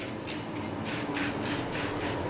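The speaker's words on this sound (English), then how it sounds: "I'm going to sand that, which is really polishing it with that 3000 grit sandpaper" Steady rhythmic rubbing of 3000-grit sandpaper wet-sanding a Corvette's paint, back-and-forth strokes repeating several times, close and fairly quiet, with no voices.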